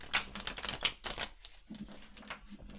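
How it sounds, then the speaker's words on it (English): Stiff, high-quality tarot cards are shuffled close up, a series of quick riffling and slapping bursts followed by softer sliding shuffles, with no talking. "These cards are very tough to shuffle."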